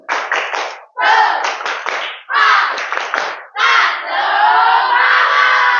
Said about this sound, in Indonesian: Hari ini, pagi ini kita tepuk semangat dulu yuk. 2 kali ya.